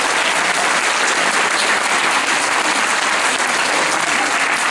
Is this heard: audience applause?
yes